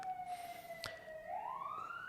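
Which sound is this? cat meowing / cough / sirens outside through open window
sirens outside through open window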